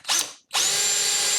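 Power drill boring into wood while building a lunchbox guitar, a brief loud whir that cuts out, then restarts and runs steadily at high speed.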